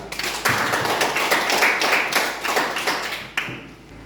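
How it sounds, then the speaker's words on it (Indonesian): A classroom audience applauds a student group after its presentation, a close, bright burst of clapping from a modest crowd that builds and then tapers off toward the end. "Oke, begitu kita tepuk tangan sekali lagi untuk kelompok 2."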